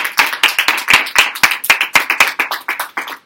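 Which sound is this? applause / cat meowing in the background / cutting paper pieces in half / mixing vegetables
applause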